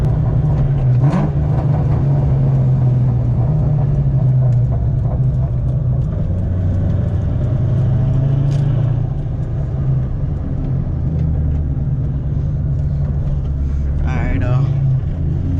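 A 2003–2004 car with a transmission crossmember mount pulls hard through first, second and third gears, a loud continuous engine drone filling the whole stretch with shifts in pitch, close and dominant.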